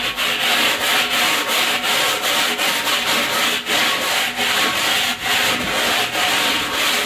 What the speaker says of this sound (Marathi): थोडा घासून डाव्या हाताने निघते का नाही